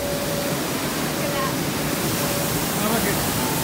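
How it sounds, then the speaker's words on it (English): Water cascading down the volcano at Volcano Bay water park, a loud continuous rushing roar filling the scene, with faint voices underneath. "That's just water coming down the volcano."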